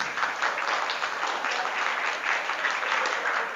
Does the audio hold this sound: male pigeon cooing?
no